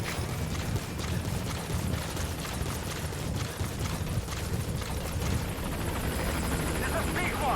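In the Metal Gear Solid V video game, the Pequod helicopter arrives at the landing zone with a continuous, loud rotor roar and steady thumping blades that last throughout.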